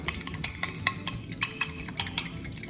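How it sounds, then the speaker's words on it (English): A fork whisking eggs in a bowl for banana bread batter: quick, light, steady clinking and scraping strokes against the bowl, close and fairly soft, with no talking. "Just whisk it together."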